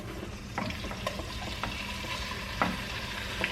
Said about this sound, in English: So I just like to stir it around a little bit.